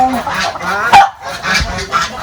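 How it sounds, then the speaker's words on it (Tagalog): Several geese honk loudly nearby in short, overlapping bursts, with brief pauses between calls, at a rural poultry farm in the province. "Yan yung gansa."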